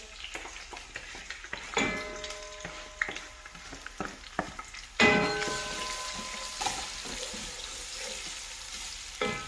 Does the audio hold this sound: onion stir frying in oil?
yes